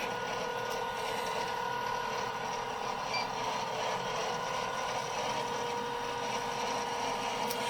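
A fabric cutting machine runs under a cutting mat at a quilt shop, giving a steady, even mechanical whir with a faint ratcheting texture, unbroken and without talk.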